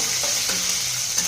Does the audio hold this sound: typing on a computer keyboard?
no